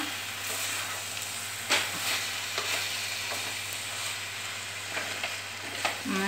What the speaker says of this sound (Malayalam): ഇളക്കി എല്ലാ മസാലയൊക്കെ എല്ലാ സ്ഥലത്തോട്ടും പിടിക്കണം.